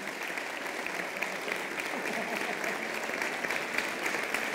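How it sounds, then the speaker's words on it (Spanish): Steady, warm audience applause fills a hall at a folk music soloists' gathering in Gran Canaria, with even clapping throughout and a presenter's voice speaking over it. "también recibes este reconocimiento y este fuerte aplauso del público"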